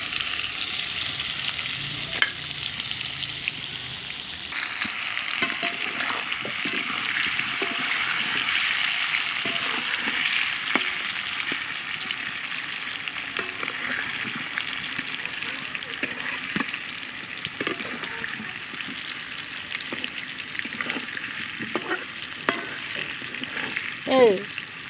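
Potatoes fry in oil in a kadai with turmeric and salt, a continuous bright sizzle carrying through, broken by frequent scraping and tapping of a spatula stirring the pan, close and moderately loud with no talking.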